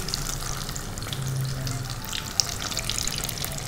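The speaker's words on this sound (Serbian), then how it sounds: "sada ovo pržite na laganoj vatri" Breaded chicken rolls fry gently in oil on low heat, a steady soft crackle and sizzle with a small pop partway through, heard close and alone.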